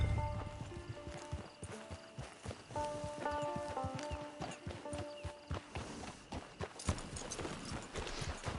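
Horse hooves clip-clop in steady rhythm in Red Dead Redemption 2, a quiet walking gait with soft repeated hoofbeats, a brief neigh and faint game music and ambience behind.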